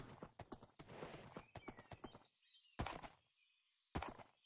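Rapid clip-clop of a horse's hooves galloping close by in the video game Hunt: Showdown, dense and rhythmic, then breaking into a few isolated heavy hoof thuds with quiet gaps between.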